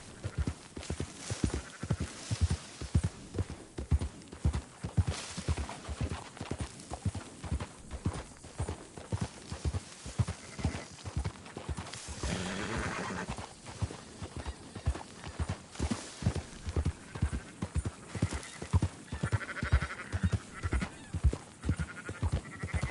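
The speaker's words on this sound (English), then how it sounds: "Marston, why don't you leave the sheep to me? You ride Shank, keep watch for any trouble." Horse hooves clip-clop in a steady rhythm through a sheep-herding scene in the video game Red Dead Redemption, with sheep bleating now and then over the hoofbeats, all fairly close and continuous.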